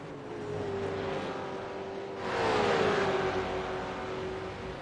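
A sim racing game car drives into the pits with a steady engine drone that swells and shifts pitch midway, loud and continuous with no talk over it.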